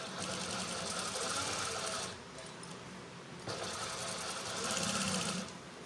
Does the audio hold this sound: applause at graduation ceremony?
no